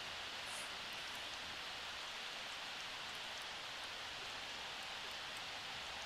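Rain falls outside a house in the Sims 4 life simulation game, a soft, even hiss of steady rainfall at low volume that continues unbroken with no voices.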